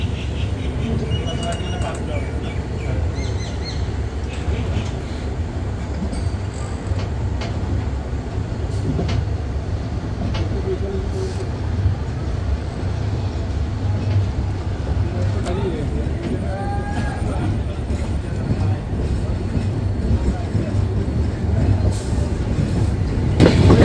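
Kapotaksha Express train pulling out of Ishwardi Junction station in Bangladesh, a steady rumble and rattle of wheels and carriages heard from inside, with faint squeals and clanks over a continuous low drone.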